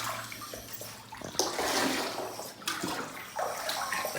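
Running water rinsing a dog during a bath, a close splashing gush from a tap or sprayer that surges and pauses in uneven bursts.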